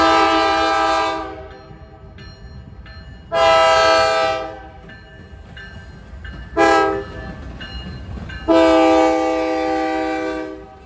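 Norfolk Southern freight train passing in Hamilton sounds its horn in a salute: four loud chord blasts, long, long, short, long, with a low rumble of the rolling train between them.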